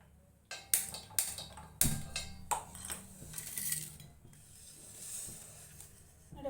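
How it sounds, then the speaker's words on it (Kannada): A few sharp metallic clanks and clatters of a pot being set down on a stove and shifted, followed by quieter rustling. "ಒಲೆ ಮೇಲೆ ಪಾತ್ರೆ ಇಡ್ತಿದ್ದೀನಿ"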